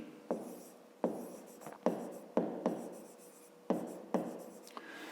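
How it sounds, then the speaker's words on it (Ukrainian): Pen writing notes on paper during a fifth-grade maths lesson, heard as a series of close scratchy strokes, each starting with a firm tap and trailing off, in an uneven rhythm, with no talking. "А зараз давайте ми дещо занотуємо."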